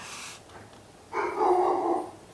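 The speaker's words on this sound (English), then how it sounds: "that's my dog going a little ballistic in the background" A pet dog barks in the background of an indoor room, giving one loud, yappy burst after a quieter lead-in.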